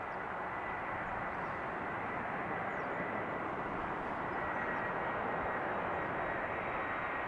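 A jet airliner arriving on runway 06, the Kaagbaan, at Amsterdam Schiphol gives a steady, loud, broadband engine roar that holds without a break, heard alone with no voices.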